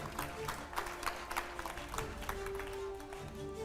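Scattered clapping from a crowd welcoming a politician at a Hindi-language media event, uneven and moderately faint, with a sustained musical tone underneath.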